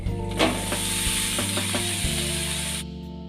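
Turmeric and cumin fry in hot oil for a chichinga dish, a steady close sizzle with a few scraping stirs over a constant low hum.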